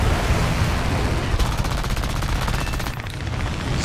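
Rapid machine gun fire from War Thunder air combat as an I-15 fighter shoots down a plane, a loud, continuous rattling burst of gunfire with no pauses.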